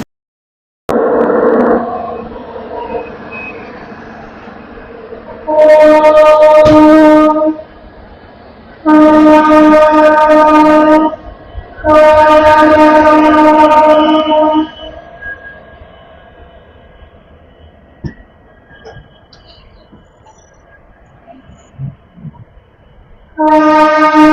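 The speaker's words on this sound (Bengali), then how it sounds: "এই হচ্ছে জেনারেল কম্পার্টমেন্ট আজকে চিরাপল্লী অমৃত ভারত এক্সপ্রেস।" The Amrit Bharat Express from Shalimar to Charlapalli rumbles along beneath three long, loud blasts of its horn in quick succession, followed by a quieter stretch of running noise and another horn blast at the very end.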